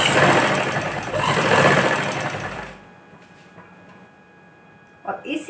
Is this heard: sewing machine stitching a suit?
yes